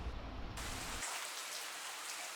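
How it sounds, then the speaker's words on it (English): Heavy thunderstorm rain pours down in a steady, dense roar, close by and continuous, heard from under a bridge, with no voices. "this is pretty strong rain, so it's best to wait under the bridge"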